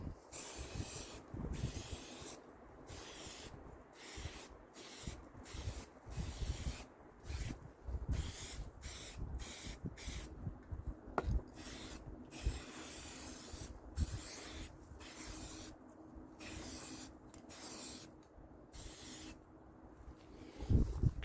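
Tub and tile refinishing coating sprayed onto a toilet seat in repeated short hissing bursts of uneven length, close and quiet, with no voices.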